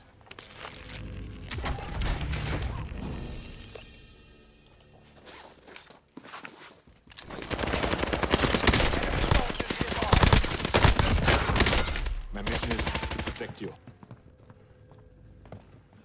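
Rapid bursts of automatic gunfire in Call of Duty: Modern Warfare, loud and close, coming in two heavy stretches separated by a quieter pause, with shouted voices between the volleys.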